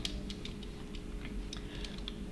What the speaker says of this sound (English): let's type these 2 times because there are 2 numbers